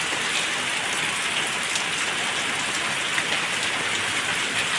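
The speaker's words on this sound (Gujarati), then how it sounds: "હા વરસાદ તો જો શિયાળામાં વરસાદ પડ્યો છે." Steady winter rain in Gujarat pours down in a dense, even hiss, constant throughout with no pauses.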